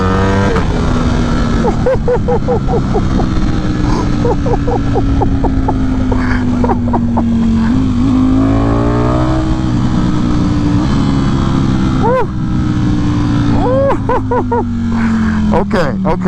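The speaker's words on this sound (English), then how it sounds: "it sounds so much meaner when all 4 are firing" A Ducati Streetfighter V4 motorcycle's four-cylinder engine idles with a steady, harsh low drone, then is revved in several quick blips that climb and fall, loud and close, with someone talking excitedly over it.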